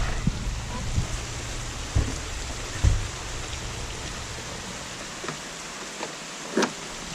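Steady heavy rain hissing across the whole clip, with a few sharper drips and knocks standing out now and then.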